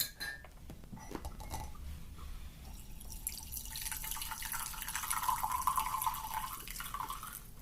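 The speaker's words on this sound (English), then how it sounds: "I'm gonna pour the green tea already" Brewed green tea is poured into a cup indoors, a soft steady trickle with a few light clinks of ceramic, close and quiet, with no talking.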